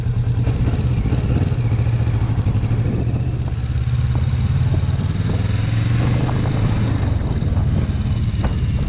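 A 2015 Kawasaki Vulcan S motorcycle being ridden, its engine droning loud and steady with a strong low hum under rushing wind noise throughout.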